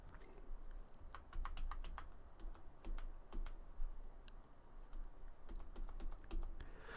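Arrow keys tapped repeatedly on a computer keyboard while drafting a civil site plan, with quiet, irregular clicks in short bursts, close and soft, and no talking.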